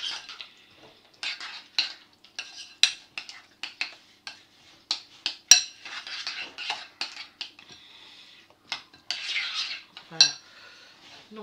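A utensil stirs a mustard mixture in a bowl, making quick, irregular clinks and scrapes against the sides, close and clear, with soft murmuring in the background.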